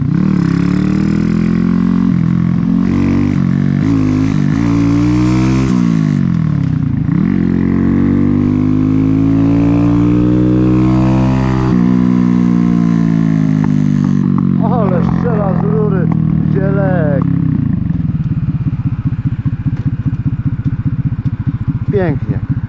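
A Romet Ogar 200 motorcycle engine idles and revs in rising and falling sweeps, loud and close, with people talking over it throughout.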